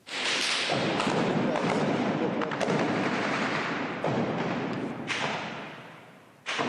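Sustained heavy fire from a ZU anti-aircraft autocannon roars almost continuously at a front-line industrial zone, dense rapid reports blending into a loud rumble with a few sharper cracks, close by.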